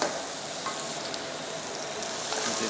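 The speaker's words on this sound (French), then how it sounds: "On va y rajouter les piments" Peppers tossed into well-browned onions frying in fat give a soft, continuous close sizzle with faint crackles, fairly quiet and heard alone.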